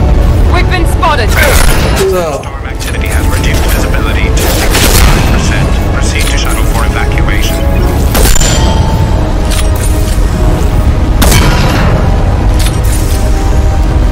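Gunfire and booming blasts in the video game Mass Effect 2 Legendary Edition, loud repeated shots and impacts crashing through a dense, busy battle mix, with voices talking over the fighting.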